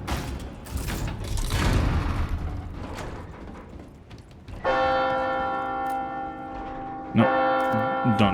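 In Resident Evil 4 Remake, a loud, close bell rings out with long sustained harmonic tones, struck twice, following a stretch of clattering combat noise and thumps.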